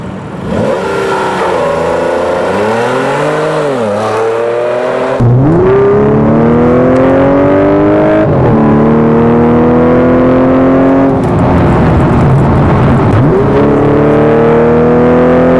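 A 2013 Audi S5 engine revs loudly and continuously, climbing and falling through several sweeping rises as it accelerates, with strong harmonic tones and no talking.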